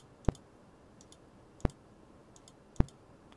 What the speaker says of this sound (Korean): 요 버튼을 누르게 되면 마치 그 버튼 눌렀을 때 생기는 그런 노이즈 같은 거 있죠?